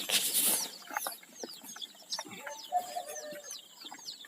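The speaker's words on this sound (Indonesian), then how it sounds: "Ini ayam joper 102 ekor" Joper chickens, a flock of 102 in a farm pen, cluck and chirp softly, with repeated short, faint calls and some rustling that are spread across a few seconds.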